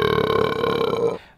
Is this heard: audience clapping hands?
no